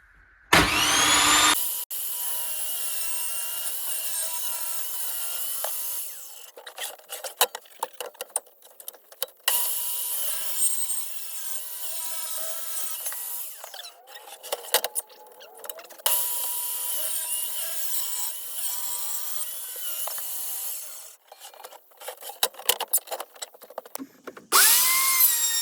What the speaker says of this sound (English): Just did a little bit of sanding to it